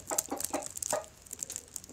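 Chickens in a backyard flock cluck close by in a quick series of short, bright calls, with a sharper high note repeating over them.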